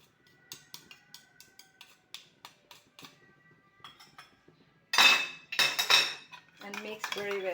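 Utensils working salad dressing of black pepper, salt and garlic in a bowl, first a run of light rhythmic clicks, then louder, faster clattering and scraping of metal against the bowl, close up.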